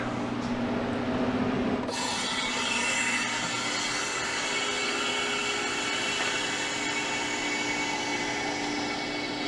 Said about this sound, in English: So, get the drain valve opened.